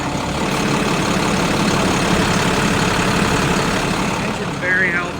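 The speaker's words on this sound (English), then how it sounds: "Engine's very healthy." A 2009 International 4300 truck engine in healthy condition idles steadily with a deep, continuous rumble, heard close and loud throughout without any talking.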